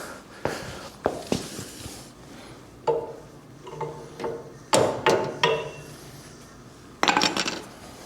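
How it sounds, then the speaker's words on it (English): Hammer blows ring out on a metal pin while removing the sickle bar from a 1958 Ford 851 tractor: sharp, clanking metallic strikes in irregular bursts, some single and some in quick clusters, close by. "When in doubt, hit things with hammers"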